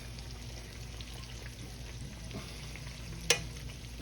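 Pork chops fry in a skillet, a faint steady sizzle with soft crackling throughout and one sharp brief pop near the end.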